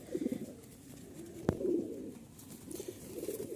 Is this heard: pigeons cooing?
yes